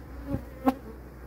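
A brief honeybee buzz passes close by, a short whining hum lasting under a second against quiet background.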